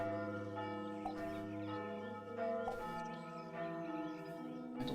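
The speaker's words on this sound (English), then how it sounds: "God damn, these bells are loud." Loud church bells ring in a Diablo-like action role-playing game, a sustained wash of overlapping bell tones with several strong strikes layered on top, steady and close throughout.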